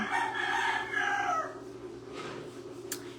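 A rooster crows once, loud and nearby, its call fading out midway, followed by quieter background ambience and a brief sharp click near the end.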